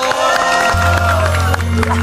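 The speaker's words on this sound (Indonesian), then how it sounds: "Tepuk tangan dulu dong." Studio audience applause and cheering at a Ramadan television show, a short burst of clapping and whoops from the crowd, with a low musical tone coming in underneath.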